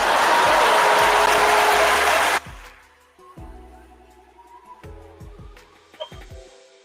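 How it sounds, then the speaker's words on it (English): An audience in a live talk-show hall applauds loudly for about two seconds. The clapping then cuts off, leaving faint clicks and handling noises. "y'all give yourselves a round of applause"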